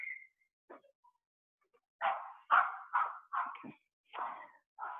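A loud dog barks outside in a run of about seven sharp barks at a steady pace, heard from a short distance and with no talk over it.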